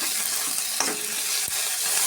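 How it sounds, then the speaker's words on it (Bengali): Ginger and garlic sizzle with browned onions in a hot pan, a steady close frying hiss broken by a couple of sharp scrapes from stirring, with no one speaking. "এবার আদা রসুন দিয়ে দিলাম, এটা একটু কষিয়ে নেই"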